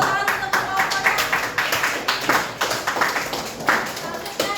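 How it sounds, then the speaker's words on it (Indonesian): Students in a classroom give rhythmic, evenly spaced claps for a student group after its presentation, fairly close and steady over a few seconds. "Beri tepuk tangan untuk kelompok."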